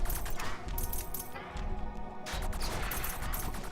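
Gunfire from the video game Riverbond comes as rapid bursts of cracking shots over a busy game soundtrack, briefly pausing before another volley.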